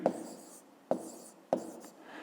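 Pen or chalk strokes writing out numbers by hand for a fifth-grade subtraction exercise, three short scratchy bursts spaced under a second apart, close and fairly quiet, with no voices.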